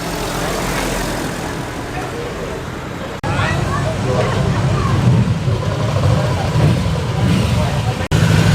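A classic Daimler car drives past at an outdoor vehicle show, its steady engine rumble mixed with traffic and crowd chatter, loud and close throughout.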